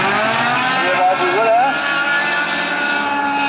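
Rallycross cars race and overtake at a Norwegian bilcross festival, engines roaring loud and continuous with rising and falling pitch as they pass, under excited commentary.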